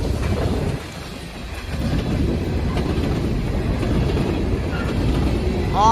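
A freight train with Conrail hopper cars rolls past nearby, a heavy continuous low rumble with faint rhythmic rail clatter that swells slightly toward the end.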